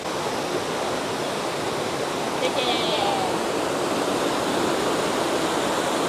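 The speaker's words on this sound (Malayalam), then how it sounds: "അവിടെ വെള്ളം വീഴുന്ന കാണാം" Wulai waterfall in Taiwan makes a steady, broad rushing roar of falling water that stays unbroken and fairly loud for the whole stretch.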